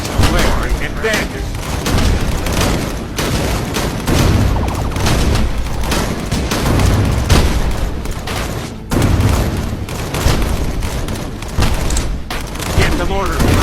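Mortar fire and other weapons boom through a battle in the video game Cactus Cowboy Plants At War, a loud dense barrage of blasts and gunfire with voices shouting over the din.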